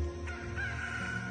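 A rooster crows once in a dramatized New King James Bible reading of Matthew, a moderately loud, drawn-out call heard alone without speech.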